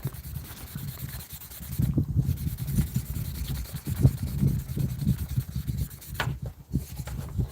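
A helmet visor being wet-sanded by hand with 1500 grit paper, heard as a close, soft, uneven rubbing and scratching in irregular strokes, with no talking.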